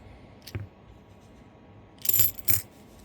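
Silver half dollar coins unwrapped from paper rolls clink in a short burst: one small tap early, then two brighter metallic clinks close together near the end, fairly quiet against a low background.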